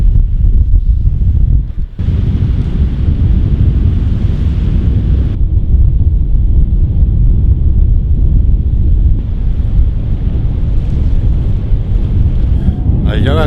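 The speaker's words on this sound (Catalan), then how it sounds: "fot un vent que no s'hi pot estar" Strong wind buffets the microphone on a sandy beach in the Ebro Delta at Camalgo, a loud continuous roar with gusty surges throughout.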